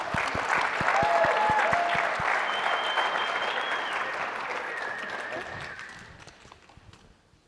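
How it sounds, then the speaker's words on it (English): An audience at a startup launch competition claps loudly and steadily for several seconds, dense applause that slowly thins and fades out toward the end. "Please give me a round of applause for Uplift Microhome."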